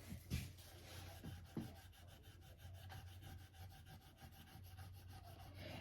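Steady rasping rub of a burnishing tool worked over a stencil laid on a wooden garden sign, a continuous scraping friction with a few sharper knocks near the start, close and moderately quiet.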